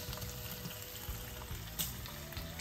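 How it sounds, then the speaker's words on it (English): An egg frying in a pan for a Korean spam-and-egg side dish, giving a steady close sizzle and crackle with faint clinks throughout, and no one speaks. "I'm frying the egg."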